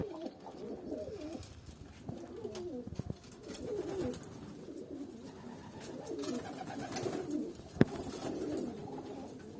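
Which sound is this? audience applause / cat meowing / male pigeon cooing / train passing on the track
male pigeon cooing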